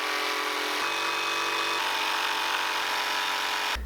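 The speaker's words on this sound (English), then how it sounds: "hopefully I can use my jigsaw to cut this out" A jigsaw cuts a slot in a wooden mailbox lid, a steady rapid buzzing rattle of the reciprocating blade running continuously at close range with slight shifts in pitch as it works through the wood.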